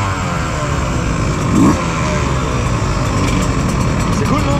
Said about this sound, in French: ils ont réussi à me trouver un 125 bêta 2 temps que je vais pouvoir emprunter et rouler jusqu'à la fin de la journée